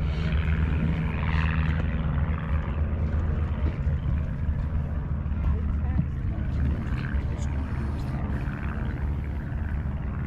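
A WWII L-Bird light airplane with a four-cylinder air-cooled engine, flying at the Mid Atlantic Air Museum's 2022 World War II Weekend, gives a steady, low droning rumble that holds throughout.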